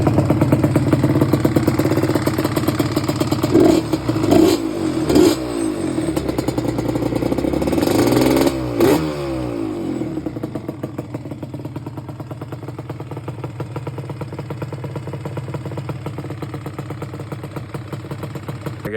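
A 1997 Yamaha Banshee engine idles close by, blips through several sharp revs, then settles back into a steady, rattly idle.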